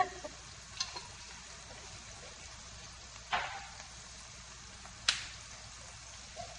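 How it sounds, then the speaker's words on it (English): Garlic fries in a pan with a faint, steady sizzle broken by three or four sharp, close pops of splattering oil. "until the garlic softens. I had to put my apron on because it's splattering all over me"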